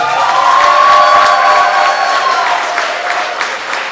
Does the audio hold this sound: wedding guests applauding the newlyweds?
yes